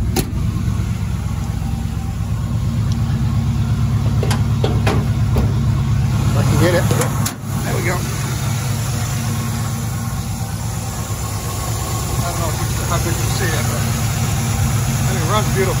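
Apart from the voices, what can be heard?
1967 El Camino 283 engine idling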